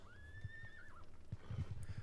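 Horses in a Napoleonic wargame: a clear whinny rises and falls early on, followed by irregular clip-clop hoofbeats on the ground, moderately close and fairly quiet.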